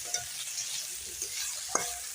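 A spoon stirs mustard greens saag with a spice mix of coriander and cumin, soft scraping and a faint sizzle with an occasional clink against the pot, quiet and close.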